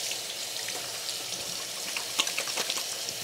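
Tap water runs steadily into a bathroom sink while hands are rinsed under it, a constant hiss broken by splashes and drips near the end, with no voices.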